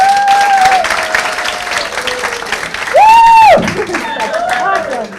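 Workshop audience clapping at a health workshop, loud and close, with cheering voices and whoops layered over it.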